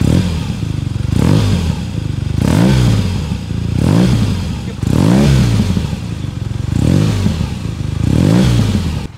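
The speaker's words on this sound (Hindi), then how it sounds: "lovely sounding motorcycle," Near and loud, a 2021 BMW R nineT Scrambler boxer-twin exhaust barks through about six repeated throttle revs, each rising sharply and falling back to a lumpy idle between them.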